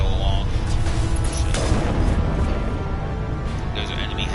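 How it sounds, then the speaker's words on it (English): Heavy enemy turret cannons in a sci-fi video game boom steadily, a dense, continuous low rumble of overlapping blasts that stays loud throughout. "Those are enemy heavy turrets. I forgot about those. Heavy cannons."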